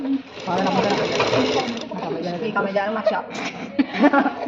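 A sewing machine with a 3-in-1 presser foot runs in a steady rapid stitching chatter, close and continuous, while someone talks and laughs over it.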